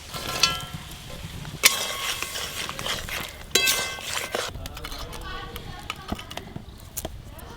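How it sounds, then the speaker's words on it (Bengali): Fried small river fish go into a simmering sour broth in a pan, giving a moderate bubbling sizzle with sharp clinks and scrapes of a spoon, while a voice talks over the cooking. "এবার ভেজে রাখা মাছগুলো দেব।"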